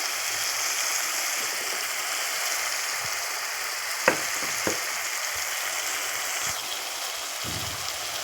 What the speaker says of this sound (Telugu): ఇప్పుడు ఇందులోకి మనం చింతపండు పేస్ట్ని కూడా యాడ్ చేసుకుందాం